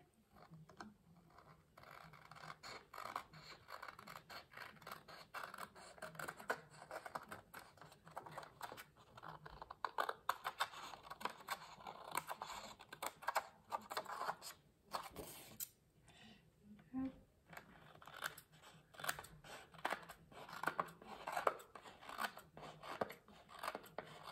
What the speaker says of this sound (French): Et ben on va le couper au ciseau.